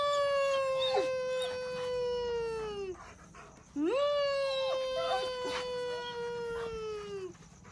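A dog gives two long, drawn-out howls, each sliding down in pitch at the end. They are loud and close, with no other sound around them.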